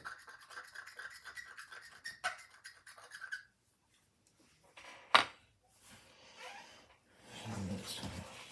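Scraping and brushing crud off a 1950s RCA portable transistor radio, short rasping strokes up close, then a pause, a sharp scrape and a softer rubbing burst at the end.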